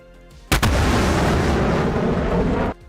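A missile streaks past and explodes in a Cold War-era combat video game: a sharp onset followed by a loud, sustained roaring blast lasting about two seconds, then a sudden cutoff, with no speech.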